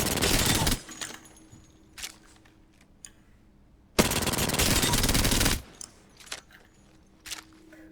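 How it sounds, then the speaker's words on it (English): Enemy automatic gunfire in Apex Legends Season 6 comes as two loud, rapid bursts about three seconds apart. Quieter clicks and game sounds fill the gaps. "an enemy's shooting at me"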